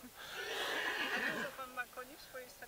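Cold-blooded draft horse at a horse show gives a loud, drawn-out neigh, then a few shorter whinnying snorts trail off near the microphone.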